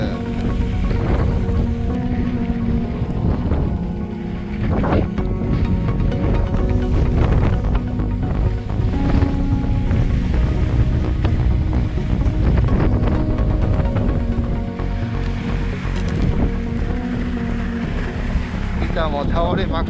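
Strong spring wind sweeps across the Hakuba Happo-one ski slope, a loud, constant roar that buffets the microphone and rises and falls in gusts, with voices faintly present underneath.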